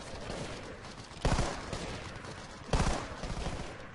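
Video game gunfire with an MK5, ACWR, L86A2 or JNG90: two loud, sharp bursts about a second and a half apart over a dense, noisy background.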